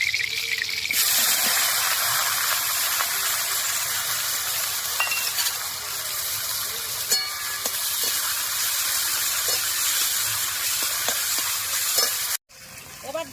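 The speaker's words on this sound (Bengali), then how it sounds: "তেলের উপরে দিয়ে দেবো চারটা মাঝারি সাইজের পেঁয়াজ কুচি" Four medium chopped onions hit hot oil in a wok, giving a continuous bright sizzle and crackle that holds steady for over ten seconds, with occasional stirring knocks, then cuts out briefly near the end.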